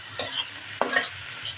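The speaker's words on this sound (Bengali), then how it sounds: "এখন নেড়ে নেব।" Onions with coriander leaves frying in oil are stirred with two close scraping strokes over a steady soft sizzle, with no voices.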